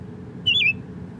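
Apple Watch bird alert tone on watchOS 6, a single short chirping birdcall played once, faint and clear over a quiet low background hum.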